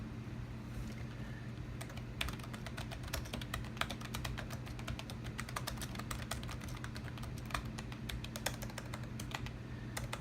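Rapid, uneven key presses rattle on the keyboard of a Macintosh PowerBook 165 laptop, a quiet, close series of sharp clicks with brief pauses, with no talking.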